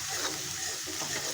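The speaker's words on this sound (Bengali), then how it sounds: "তেলের পরে মশলাটা একটু কষিয়ে নিচ্ছি" Spice paste sizzles steadily in hot oil, with green chilli, for a chapila fish and aubergine curry. The close, even frying hiss carries no talk.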